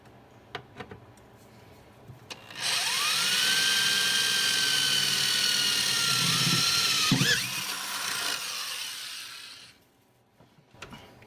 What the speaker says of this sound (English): now we're just going to let the drill do all the work